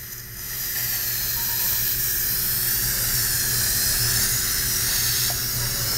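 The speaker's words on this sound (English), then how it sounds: "And now we're gonna do a quick release on the steam." Steam hisses continuously and loudly from the quick-release valve of a pressure cooker holding corned beef and cabbage, a steady sustained rush with a faint sputter near the end.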